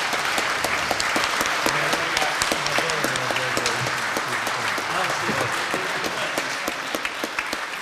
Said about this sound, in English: So a round of applause for everybody on the panel.